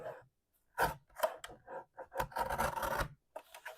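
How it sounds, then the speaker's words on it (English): A paper note card trimmed slightly by hand, a few close, quiet rasping cuts in short bursts, with brief pauses between strokes and no talking. "this card needs to be trimmed down just an inchy hair."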